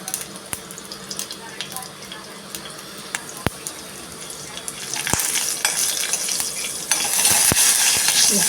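Green chilies and asafoetida sauté in hot oil with mustard seeds. Sizzling builds louder toward the end, with occasional sharp spoon clicks against the pan and faint talk underneath.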